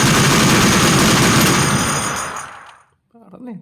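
An M2 Browning machine gun firing in a World War 2 video game: a loud, dense, continuous burst of rapid shots that thins out and fades to silence, followed by a brief faint noise.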